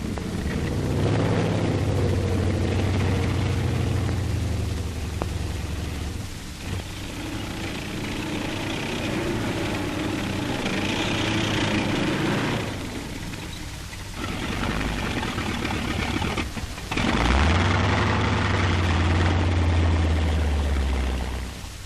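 A tank dozer on a medium tank breaching an anti-tank ditch: loud, continuous engine roar and rumble with surging swells, brief dips, and a deep labouring swell near the end.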